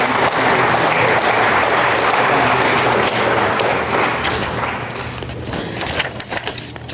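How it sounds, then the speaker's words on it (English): Loud, sustained audience applause for honored students at a board of education recognition ceremony, a dense wash of clapping that thins and fades into scattered claps toward the end. "So let's give again these students a round of applause"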